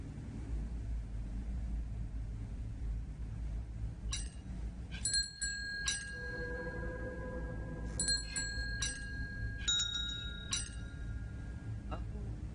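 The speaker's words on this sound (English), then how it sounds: "Bells for the servants." Servant bells ring in The Room 4: Old Sins puzzle game, scattered bright metallic chimes and clinks in clusters, with one sustained ringing tone, over a low rumbling ambient bed.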